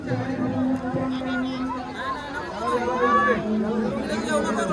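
Crowded dinner gathering with food served at two counters, dense overlapping chatter from many people, continuous and fairly close, with nearer voices rising above the general hubbub.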